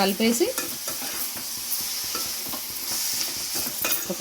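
Onion and tomato with salt being stirred in a hot pan, a continuous close sizzle broken by repeated scraping strokes of a spoon, no voices over it.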